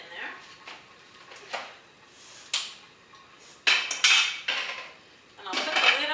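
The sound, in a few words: broccoli stems dumped into a pot on the stove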